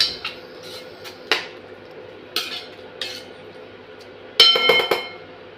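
Oats mixed with Maggi masala being stirred in a pot: a spoon scrapes and clinks against the metal in several separate strokes, closing with a louder cluster of clanks, close up and without talk.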